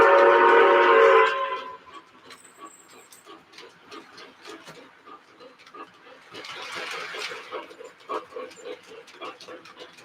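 Model train pulled by a locomotive during a Christmas run, a continuous rolling rumble with rhythmic clicks of cars over track joints, loud at first and then running steadily at a moderate level, with a short high whistle-like tone and some background chatter.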